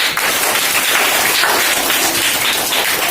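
Schoolchildren at a government school in India clap together in a dense, steady burst of applause that stays loud and even throughout, with no talk over it.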